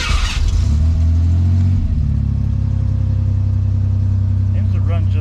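A Ford Ranger pickup with a previously melted ignition cranks and catches, then its engine runs at a loud, steady idle close to the microphone, with a brief rev settling down early on.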